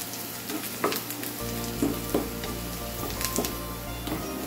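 Dried round chillies frying in hot oil for a Palakkad-style horsegram curry, a steady close sizzle with occasional sharper crackles and pops, no voices.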